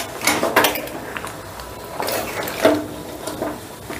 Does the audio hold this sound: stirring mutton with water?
yes